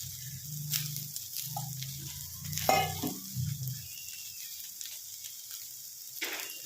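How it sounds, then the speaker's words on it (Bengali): Squeezed soybean chunks frying in a pan as they are stirred, a low steady sizzle with scraping and knocking spoon strokes bunched early on, then a quieter sizzle, close up with no voices. "একদম মানে ভালো করে লাল করে ভেজে নেব"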